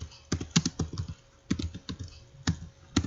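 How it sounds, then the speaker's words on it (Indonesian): Keys clatter on a computer keyboard in short, quick bursts of clicks with brief pauses between groups, close and clear with no talking. "Nah, kita ketik Google Scholar dan enter."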